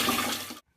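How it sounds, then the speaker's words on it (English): A toilet fitted with a Sink2Flush system flushes, rushing loudly for about half a second, then cuts off abruptly into near silence. "Let's flush our toilet and we should start to see some blue water coming out."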